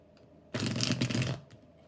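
A tarot card deck is riffle-shuffled once, a brief dense burst of fluttering card clicks lasting under a second in a quiet room.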